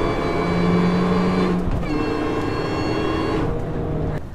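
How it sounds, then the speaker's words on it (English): A Mini Cooper S driven hard, its engine revving loudly through rising pitches with two clear gear changes, close and steady, with no voices. "Now that I've driven it like a race car"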